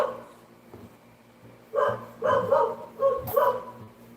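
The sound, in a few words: dog barking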